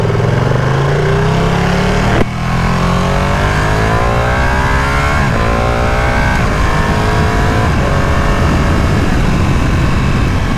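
A 2020 Ducati Panigale V2 motorcycle engine revs hard while riding on the road, its pitch sweeping up through the gears in loud, continuous rising strokes with a brief cut near the start.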